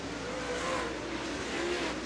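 Dirt late model race cars roar around Farmer City Raceway in lapped traffic, a dense continuous engine blare heard from a distance with no break.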